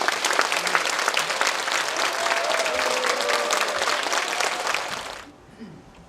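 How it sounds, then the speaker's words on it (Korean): A crowd at a happiness-sharing concert in Gimpo applauds loudly to welcome a Buddhist nun to the stage, a dense, sustained roar of clapping with some cheering that stops abruptly, leaving faint room noise. "여러분 나오실 때 큰 박수와 환호성으로 환영해 주시기를 바랍니다."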